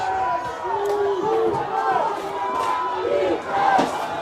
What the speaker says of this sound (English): the Kapaa crowd getting into it